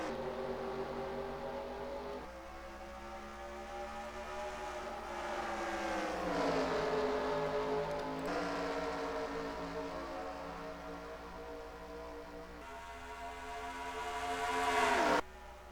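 Racing truck engines roar together in the NR2003 game on a 7/8-mile short track, rising and falling in pitch as the pack shifts and passes, with a steady dense drone that swells toward the end.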